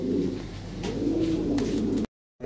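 Red Lahori pigeons, a pair, coo in a steady low rolling drone close by, continuous for about two seconds before a sudden short break in the sound.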